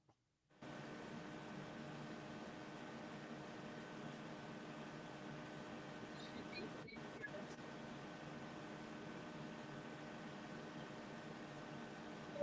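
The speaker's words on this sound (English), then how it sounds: "So I'm gonna head back over to the printer and press print" An Epson sublimation printer running a print job, a quiet, continuous mechanical whir and hum that starts abruptly after a brief silence and holds steady to the end.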